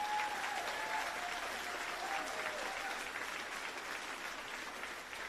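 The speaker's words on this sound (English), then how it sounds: "Y'all give the employees a round of applause." A seated audience at a career academy closing celebration gives employees a round of applause: a dense, steady wash of clapping that holds for about five seconds and tapers slightly toward the end.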